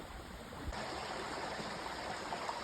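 A small stream flows steadily, a continuous close rushing and babbling wash of water with no pauses or voices.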